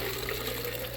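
Fresh water is poured into a container for hatching brine shrimp eggs, giving a brief, steady, faint gush with no talk over it.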